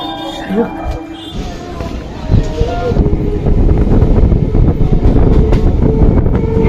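The 4:30 Budge Budge local train runs along the line with a loud, continuous rumble and rattling clatter of wheels and carriages, plus wind buffeting that grows heavier partway through.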